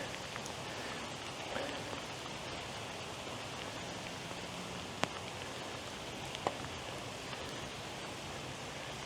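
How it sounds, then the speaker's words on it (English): Steady outdoor rain falls in a broad, even hiss throughout, with a couple of sharp brief knocks standing out; no voices are heard. "Get here in the rain"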